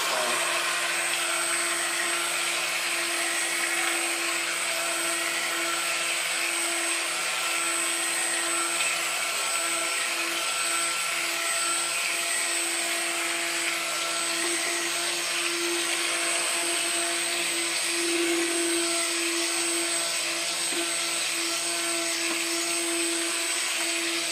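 A stick blender whirs steadily at high speed through thick soap batter made with beer and coconut milk, a continuous buzzing motor drone with no pauses.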